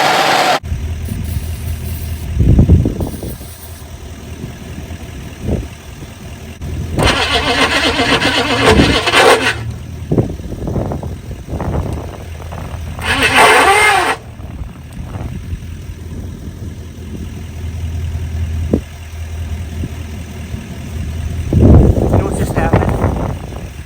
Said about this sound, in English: I replaced this starter when I first bought the truck, and it's grinding against the flywheel right now